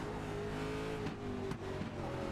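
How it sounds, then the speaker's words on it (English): A NASCAR-style Cup race car engine roars loudly and continuously on the Charlotte road course, holding a steady high drone with brief dips as it accelerates out of a turn, with no talk. "You see just how hard it is to put the power down on these vehicles. A lot of torque in these Cup cars."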